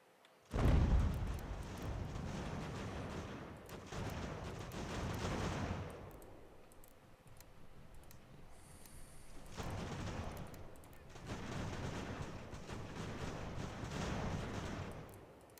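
Musket and cannon fire from Ultimate General: American Revolution during the taking of Ticonderoga on Ultimate difficulty: a sharp loud report opens, then sustained rumbling volleys swell in long waves with a quieter lull between them.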